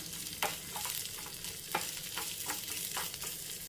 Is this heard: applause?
no